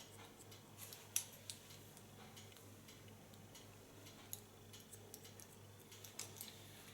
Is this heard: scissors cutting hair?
yes